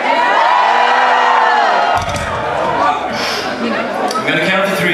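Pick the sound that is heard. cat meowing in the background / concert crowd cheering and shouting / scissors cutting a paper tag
concert crowd cheering and shouting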